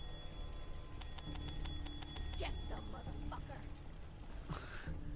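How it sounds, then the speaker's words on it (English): A service bell struck repeatedly in the video game Fallout 4, a quick run of bright metallic dings ringing over a low background hum, then fading into scattered softer sounds. "I keep hitting the bell to see if"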